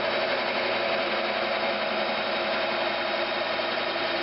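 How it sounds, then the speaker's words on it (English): A Forstner bit bores slowly into wood turned on a lathe for a shadow-box Christmas ornament. A steady, even whirring and grinding hum runs continuously at moderate level, with no talk. "So we're just going to slowly start boring into here"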